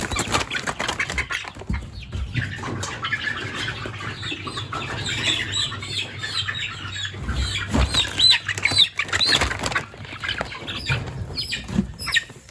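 Young spring chickens being moved into a coop give repeated squawks and flurries of wing flapping, close by, with rustling and handling noises throughout.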